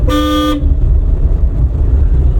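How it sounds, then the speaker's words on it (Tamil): A single short car horn honk blares loudly for about half a second during a driving lesson, then only a low engine rumble remains. "ஹார்ன் அடிங்க"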